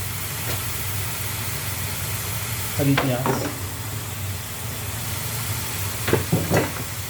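Green onions frying in the prawn-flavoured syrup, a steady sizzle with short bursts of stirring and scraping, close and moderately loud, with no talking.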